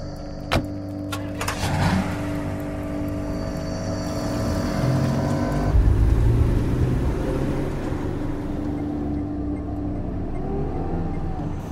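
A private car drives along as a radio drama sound effect, a steady engine rumble and road noise after a few sharp knocks at the start, continuing evenly at moderate loudness.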